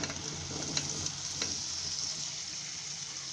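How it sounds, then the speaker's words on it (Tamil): Small gooseberries being stirred into a spice mix in a pan for pickle over low heat, giving a steady soft sizzle with a few light scraping stirs, close up and alone. "இது எல்லாமே ஒன்று சேர்கிற மாதிரி நல்லா கிளறி விட்டுருக்குங்க"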